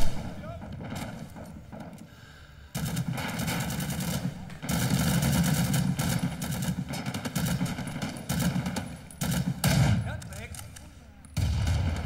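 Automatic gunfire in the Vietnam War video game Rising Storm 2: Vietnam, with dense rapid bursts and loud, close shots running throughout, broken by brief pauses, and a voice talking over the firing.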